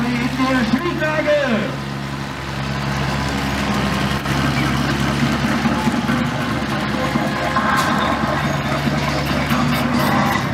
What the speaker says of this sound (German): das fahren wir mit einem LKW in die Schräglage.